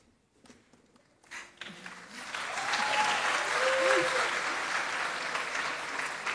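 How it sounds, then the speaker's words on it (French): A church congregation bursts into applause after a brief pause, the clapping swelling into a dense, steady roar of many hands that carries on. "il vaut toujours mieux applaudir avant une prédication, c'est plus prudent"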